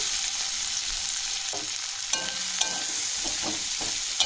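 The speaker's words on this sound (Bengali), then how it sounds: "এবার ওই মাছ ভাজার তেলের মধ্যে দিয়ে দেব কিছুটা পরিমাণে পেঁয়াজ কুচি।" Chopped onions frying in leftover fish-frying oil for a Bengali katla rezala, a steady broadband sizzle with a few soft stirring clicks and scrapes near the end, no talking.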